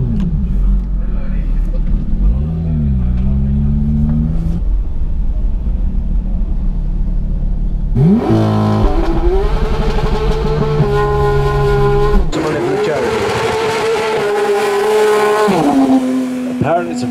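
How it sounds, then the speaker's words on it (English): A Galag GT3 race car and a Vanquish climb a hill-climb course, engines droning low at first, then revving hard through rising gear pitches with brief tire noise, loud and close under a voice. "Let's hit this hill climb. I've got Max's Vanquish in front, and I've got Adil in the Galag GT3."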